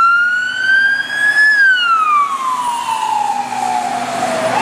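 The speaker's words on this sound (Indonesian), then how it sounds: "di sini ada mobil ambulan teman-teman." A toy ambulance siren wails loudly and alone, its tone rising and then falling slowly in one long sweep.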